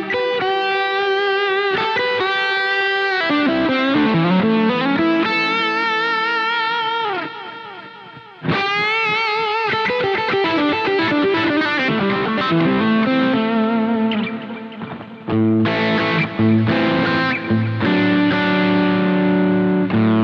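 Electric guitar played through a Boss GT-1 multi-effects unit with heavy distortion, loud sustained chords and riffs with a brief dip near the middle, alone without talk.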